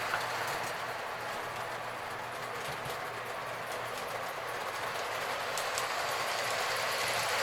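A small K-Line WP Porter toy locomotive runs steadily on its track, giving a faint, continuous whirring hum with light, rapid clicking throughout, heard alone.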